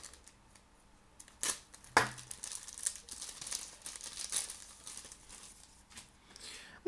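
A Beyblade sticker sheet being handled and peeled, giving crinkly plastic rustles, a few sharp tearing peels and small taps, close and fairly quiet, with no talking.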